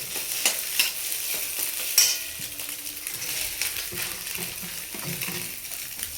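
Vegetables for chow mein stir-fried in a pan: steady loud sizzling and frying hiss with repeated scraping and stirring strokes of a utensil against the metal, continuous throughout with no talking.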